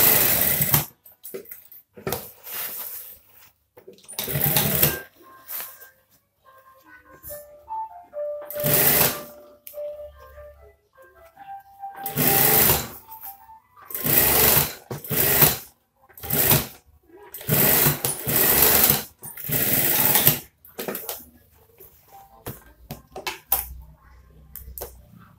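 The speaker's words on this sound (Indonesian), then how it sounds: "Lalu dijahit." Sewing machine stitching the collar of a scout uniform, running in repeated loud bursts of rapid stitching separated by short pauses, close and clear with no talking.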